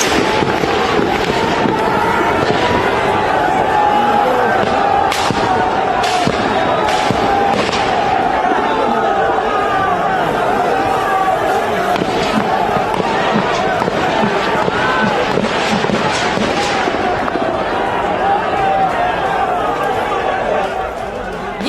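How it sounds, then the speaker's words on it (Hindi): Gunfire from soldiers shooting indiscriminately at unarmed protesters on a march in Mirpur, Pakistan-administered Kashmir: repeated sharp cracks and bangs scattered through a loud, continuous roar of crowd noise and shouting. "मुनीर की आर्मी ने अंधाधुंध फायरिंग की है"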